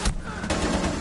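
Gunfire in Rainbow Six Siege, a sharp close shot at the start and another about halfway through, over busy game noise.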